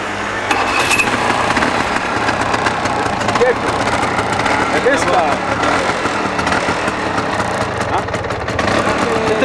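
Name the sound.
125cc four-stroke scooter engine running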